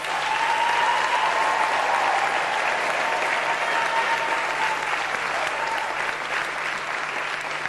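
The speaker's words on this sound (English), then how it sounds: "Can we give them another round of applause?" Another round of audience applause at a UNISA graduation ceremony for doctoral graduates, steady dense clapping from a large crowd holding at an even level throughout.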